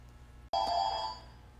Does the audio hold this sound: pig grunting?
no